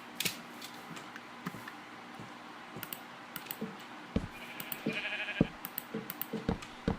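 Sheep bleating in the Minecraft video game, a few short in-game bleats scattered over soft clicking and creaking game sounds, with quick keyboard-like taps throughout.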